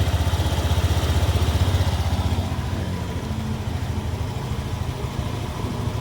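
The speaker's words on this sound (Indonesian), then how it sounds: "Suaranya udah jauh ya, jauh lebih halus. Udah nggak ada suara yang aneh-aneh, dan ini memang suara ciri khasnya Honda kayak gini." A 2015 Honda Beat scooter idles with a steady, even putter and a light mechanical clatter, recorded up close with no voices over it.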